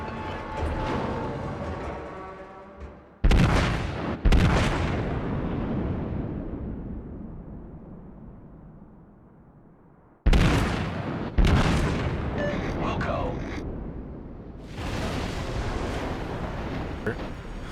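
Heavy booms of high-explosive shells striking the Tirpitz battleship in World of Warships, several sharp loud impacts with long rumbling decays, arriving in pairs with gaps between them.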